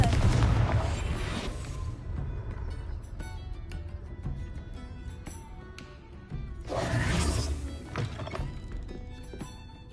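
Confringo fire-blast spell from Hogwarts Legacy going off in booming bursts, a heavy thump at the start and another swell near the end, over a busy game soundscape of music and effects.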